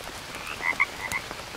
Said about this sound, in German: Ah, da ist eine Kröte.